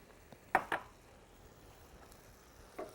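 Spoon stirring soupy rice with peas in a pot: two quick scraping clinks close together, then quiet cooking background, and a softer scrape near the end.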